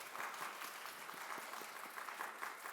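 A youth group audience of middle-school students at a church worship service claps in a continuous, fairly dense patter, heard from a distance with a light room echo.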